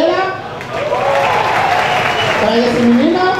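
Applause from an audience at a drag show, a steady wash of clapping with voices and cheering mixed in, fairly loud throughout.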